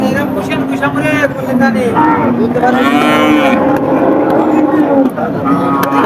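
Cattle, cows and calves, moo loudly and repeatedly at a livestock market, long drawn-out calls overlapping amid a noisy crowd with people talking in the background.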